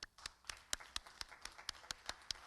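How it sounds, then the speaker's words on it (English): Graduation audience at a student-athlete commencement applauding honors students: sparse, distinct individual claps in a slow rhythmic pattern, fairly faint and distant in a large hall, with no talk. "Let's clap for your incredible honors, students."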